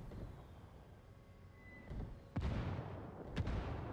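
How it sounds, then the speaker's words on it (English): Mortar shells slam down in a Ghost Recon Wildlands Ghost War match, two sharp explosive booms about a second apart rising over a low rumbling game backdrop. "Mortars come down, forcing Psycho out of his position."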